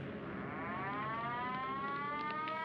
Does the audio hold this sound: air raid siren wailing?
yes